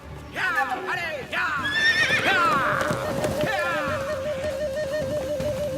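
A cartoon horse gives a loud, drawn-out whinny, followed by more neighing and a steady tone that continues under faint background sounds.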